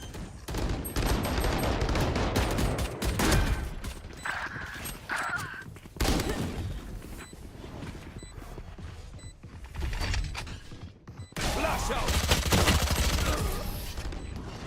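Rapid bursts of gunfire crackle almost nonstop while running in Valorant during a VCT Masters Shanghai grand final match, loud and dense with mechanical clicks and short gaps between volleys.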